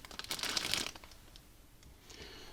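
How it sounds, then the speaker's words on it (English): A plastic bag holding vintage BattleTech miniatures on plastic sprues crinkles and rustles up close in a burst of crackling, then quieter scattered crinkles follow as handling continues. "I'll just open the plastic bag here as well"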